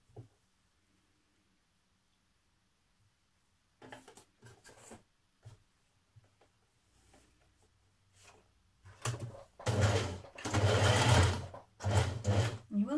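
Sewing machine stitching stretchy blouse fabric and back tacking, heard as short bursts of whirring separated by pauses and faint handling, then a longer loud run of stitching toward the end.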